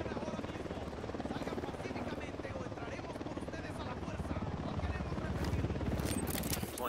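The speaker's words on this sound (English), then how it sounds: "Helicopter incoming." A helicopter drones steadily throughout in the video game Ghost Recon Wildlands, its thudding rotor holding a constant loud level and swelling slightly toward the end, with faint game effects over it.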